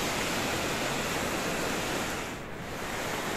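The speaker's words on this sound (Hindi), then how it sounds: "अंदर अंदर तक पानी जा रहा है।" Floodwater pouring into a house during a flood, a steady, loud broadband rush of water like surf, continuous throughout with a slight dip near the end and no talking.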